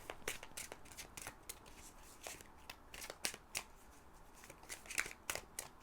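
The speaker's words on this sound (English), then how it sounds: "I'm just going to begin the shuffling process" Decks of cards are shuffled by hand for a card reading, with quick, rhythmic riffling bursts and soft flicks repeating close and fairly quietly, no voices.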